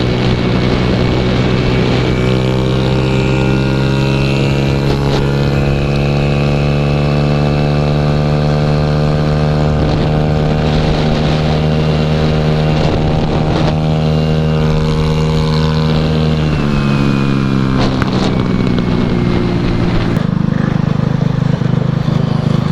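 120cc stroker pit bike engine fitted with a new Taida exhaust pipe, running loud and close with a steady buzzing tone that climbs and falls through a few revs before settling toward idle.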